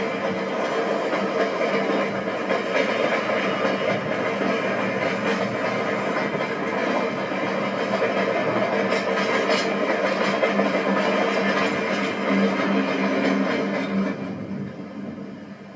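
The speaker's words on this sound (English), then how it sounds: "as the train rolls westward" Milwaukee Road 261 steam train rolling on rails through the Minnesota countryside, a steady loud rumble and clatter of wheels that continues unbroken, then eases slightly at the end.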